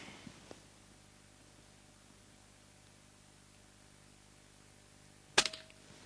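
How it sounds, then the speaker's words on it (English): An airgun scope turret adjusted while zeroing: a single sharp, close mechanical click cluster late in a quiet stretch, preceded by a faint tick near the start, with no talk. "So therefore I'll go click, click"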